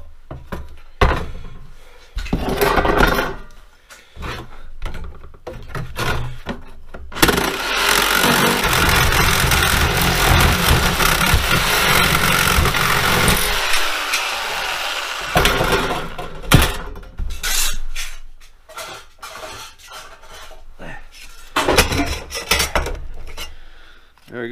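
A power cutting tool slices metal strips from a 20 lb propane tank, a loud sustained grinding whine for several seconds, framed by clanks and scraping of metal being handled.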